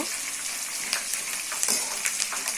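Curry leaves splutter in hot oil with crushed garlic in a pan, a steady close sizzle with sharp crackling pops scattered throughout, no voices.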